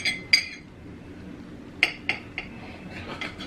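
Sharp clinks of cutlery against a plate or packaging while cutting MRE bread pieces for a peanut butter and jelly sandwich, a handful of isolated taps spread irregularly, close and fairly crisp.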